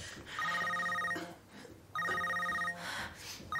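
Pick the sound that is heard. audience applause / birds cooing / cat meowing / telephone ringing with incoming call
telephone ringing with incoming call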